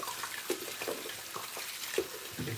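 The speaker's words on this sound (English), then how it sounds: "I'm just gonna wash my hands." Tap water runs into a sink for hand washing, a steady close splashing hiss with a few small knocks and clinks, and no talking.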